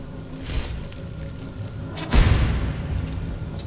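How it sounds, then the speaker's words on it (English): The Lightning Cloak spell in the video game Skyrim: a crackling electric hum with a swoosh, then a heavier boom and burst of energy midway that fades to a lingering rumble. "This is called Lightning Cloak."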